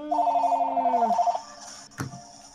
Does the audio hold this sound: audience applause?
no